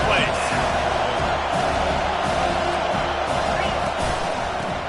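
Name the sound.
stadium crowd cheering at a football game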